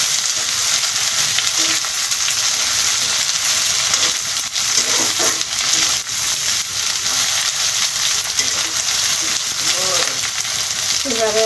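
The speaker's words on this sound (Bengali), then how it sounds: "পেঁয়াজ আর শুটকি আমি ভেজে নিচ্ছি।" Sliced onions and dried fish (shutki) frying together in a pan, a loud continuous hissing sizzle up close with occasional stirring scrapes, no voices.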